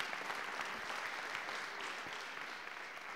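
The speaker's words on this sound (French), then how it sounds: "il mérite des applaudissements" Audience applause at a French-language session, dense steady clapping from a crowd filling the room, continuous and even throughout with no voices over it.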